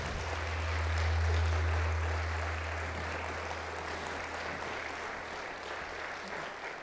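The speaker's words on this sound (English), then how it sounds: "why don't we give him another round of applause?" Audience applause for a Freedom Rider speaker, a broad, even roar of many people clapping that rises early and then holds steady throughout, with no speech over it.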